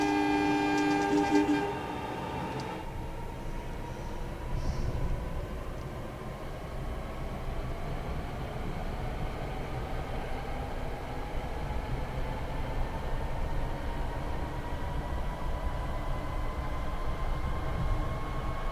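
A train in the Train Sim World 6 simulator sets off after its brakes are released, a short horn blast followed by a steady, building engine drone with rising tones that carries on for many seconds, fairly quiet and without talk.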